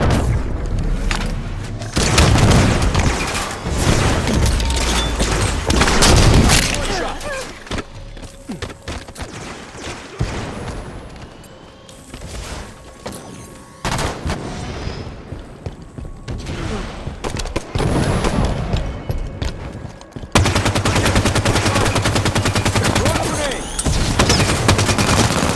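Gunfire in Halo 5: Guardians, Team Slayer on the Coliseum map on Xbox One: dense, loud bursts of weapon fire and booming blasts run almost without a break for about 25 seconds, with no voices.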